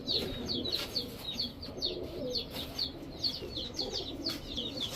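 Giribaz high-flyer pigeons, a pair of Kobra Lalpatti birds, make repeated soft cooing calls in quick succession from close by, over a low, steady background rumble.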